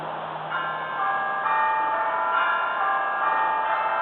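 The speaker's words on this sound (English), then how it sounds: "the bell invites me" A bell rings steadily with sustained, overlapping metallic tones, strikes blending into a continuous ringing wash.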